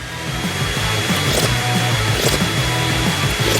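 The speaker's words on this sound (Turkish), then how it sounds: "Elektrikli süpürge." An electric vacuum cleaner runs loud and close, a steady whirring motor roar with a high whine that continues unbroken throughout, with no voices over it.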